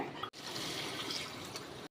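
Black kavuni rice rinsed with water in a bowl gives a continuous close swishing, sloshing wash of liquid, broken by a brief pause, with no talk.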